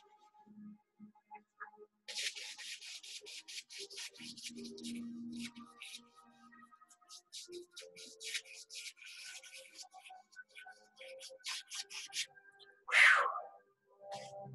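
Brush scrubbing back and forth over oil paint on canvas for a mountain lake landscape, a soft, close rhythmic rubbing made of quick repeated strokes that runs for most of the stretch, with a brief louder knock near the end.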